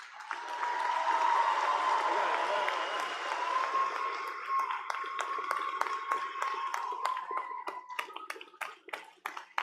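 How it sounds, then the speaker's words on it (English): At a community college commencement ceremony, a large audience applauds steadily, a broad wash of clapping that thins toward the end into scattered individual claps, with a faint held tone from the hall's sound system beneath. "let us applaud their contributions and dedication to your success."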